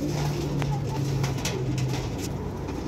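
Sialkoti female pigeons coo in low, repeated throaty calls, with a few sharper bird notes and faint background chatter mixed in.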